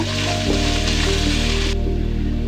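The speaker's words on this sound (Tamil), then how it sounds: "இஞ்சி பூண்டும் சேர்த்துட்டு அதோட பச்சை ஸ்மெல் போகிற அளவுக்கு நல்லா வதக்கி விடுங்க" Ginger and garlic sautéing in a pan, a continuous close sizzle and crackle under a steady low hum from the stove or a nearby motor, with no talk.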